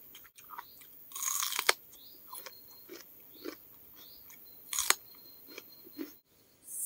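Someone chews fresh, crunchy bird bitter melon picked from the garden; close, crisp crunches and bites come in irregular bursts separated by quieter chewing.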